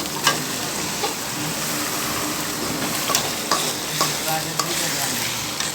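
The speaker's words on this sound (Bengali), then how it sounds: "সেই মাংসগুলো এর মধ্যে ঢেলে দিব কড়াইয়ের ভেতর।" Marinated chicken sizzling loudly in a wok as it fries for chicken curry, a dense continuous hiss with scattered scraping and stirring clicks, close up and with no talk.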